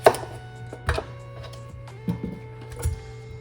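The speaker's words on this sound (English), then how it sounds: "We're gonna cut the bottom." A knife chops through the bottom of a fennel bulb on a cutting board, with several distinct sharp thunks spaced about a second apart over a faint steady hum.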